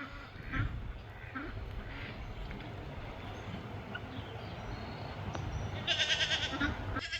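Goats bleat a few times at a distance over a steady outdoor rumble, with a sharper burst of noise near the end.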